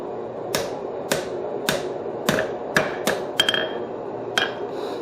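Hammer blows ring out on hot steel over an anvil horn during forging of a hold-down hardy tool, about ten sharp metallic strikes at an uneven pace, close and loud with no talk.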